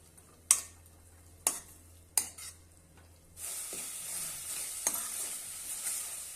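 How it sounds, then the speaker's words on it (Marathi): Coarsely ground peanuts are sautéed in a pan for a spicy spring onion greens chutney. A few sharp spatula scrapes and knocks come first, then a steady, brighter sizzle swells up and keeps going, with no one speaking. "थोडेसे शेंगदाणे मी मोड जाडसरच वाटून घेतलेले आहे ते घालूया आणि छानपैकी परतून घेऊया"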